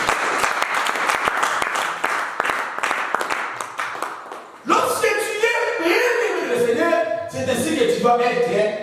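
A church congregation claps during a sermon, dense applause filling the first half, then a voice speaking loudly over the fading clapping.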